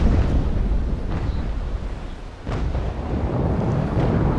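Ship cannon broadside in Naval Action: heavy rumbling booms overlapping into a continuous thunderous roar, with a brief dip and then another rolling volley, loud and with no voices.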